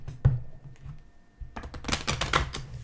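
A Healing Code Cards deck, the body deck, is shuffled by hand: a soft thump, then a rapid run of papery riffling clicks in the second half, close and fairly quiet.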